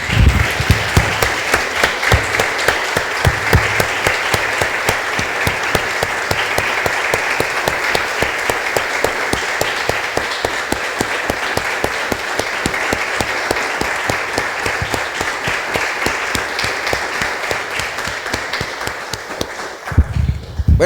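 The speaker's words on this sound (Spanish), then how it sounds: "Damos un aplauso, hermanos." A church congregation applauds together in a steady, dense wash of clapping that holds evenly for about twenty seconds before stopping abruptly.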